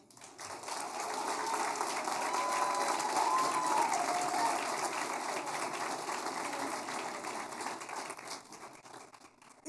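Sustained audience applause at a school board meeting honoring a high school student musician, a steady wash of clapping from a crowd that swells and then slowly thins.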